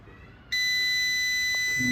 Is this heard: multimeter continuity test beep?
yes